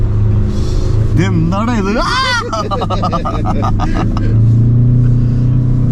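A Ford Endeavour is driven up a desert sand dune in Jaisalmer, its engine rumbling and revving steadily throughout while excited voices talk and exclaim over it.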